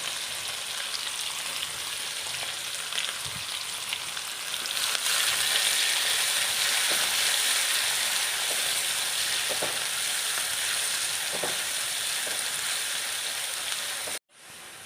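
Finely chopped onion frying in a pan for a banana stem stir-fry, a steady close hiss and crackle of oil that swells a little midway, with faint soft stirring ticks and no voices.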